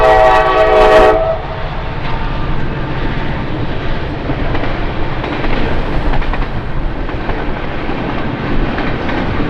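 A Norfolk Southern local freight train racing past on the Lake Erie district in northwestern Pennsylvania, with a brief loud horn blast followed by a continuous close roar and rumble of rolling cars.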